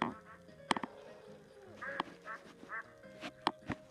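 Ducks quack outdoors in a few short, fairly faint bursts with brief honk-like calls and sharp clicks between them.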